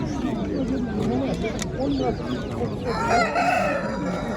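A rooster crows among people talking in a busy poultry market in Kırıkkale, Turkey, the call rising over overlapping voices and general crowd noise.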